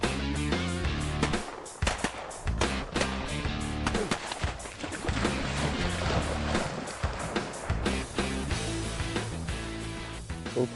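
Loud, sharp shotgun shots go off repeatedly over a dense, noisy background during a duck hunt, several blasts close together.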